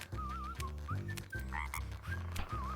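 Frog croaks from the video game Walk the Frog repeat as a steady series of deep, rhythmic croaks. High chirpy whistling tones from the game's music ride on top, and nobody talks over them.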